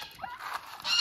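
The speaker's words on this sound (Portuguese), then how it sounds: "Olha ali quem tá chegando ali, ó. Os gansos." Geese honk on a rural farm: a brief nasal honk, then a louder one at the end, heard close and alone in about a second.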